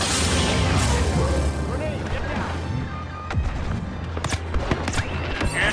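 Turret firing in the Star Wars Battlefront II video game, a loud sustained barrage of booming blaster shots and impacts amid battle noise, with voices calling out.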